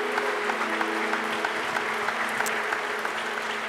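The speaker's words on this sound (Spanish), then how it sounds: "Le damos un aplauso grande" Church congregation clapping together in a steady, sustained round of applause that fills the room, with faint voices and crowd murmur mixed beneath it.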